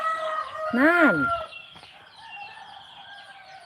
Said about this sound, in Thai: เสียงไก่ขัน